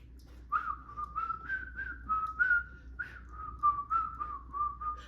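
Someone plays a flute alone, a breathy, wavering melody of sustained notes with soft tonguing pulses, fairly close and steady, with no voices.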